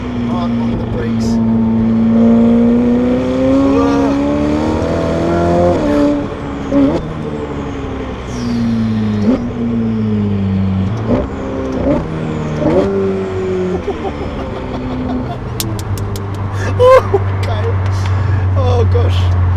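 A Novitec-tuned Ferrari F8 Tributo revs hard and accelerates, its loud engine note climbing and dropping through repeated surges up close, with people speaking and exclaiming over it.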